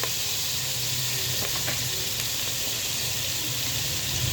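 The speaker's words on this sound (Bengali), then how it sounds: "প্যানে পেঁয়াজ বাটা দিয়ে দিলাম" Onion and garlic paste sizzles steadily in oil in a frying pan for a chicken biryani, a constant close hiss with a few faint stirring clinks and no talking.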